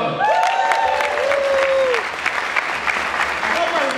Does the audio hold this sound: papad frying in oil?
no